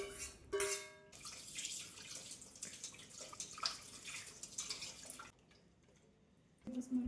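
Whey from split milk pours and drips through a cloth as homemade paneer is strained in a kitchen. The liquid runs in a steady close trickle for several seconds, with brief louder clatters at the start and end.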